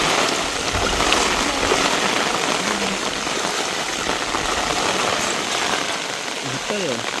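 Heavy rain pours steadily over fields and forest, a dense, loud hiss of water that holds throughout, with people talking over it and faint tonal sounds near the end.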